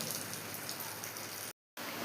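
Heavy rain falls steadily on surfaces outdoors near laundry hung out to dry, a dense continuous patter throughout, broken by a brief dropout of silence near the end before the downpour resumes.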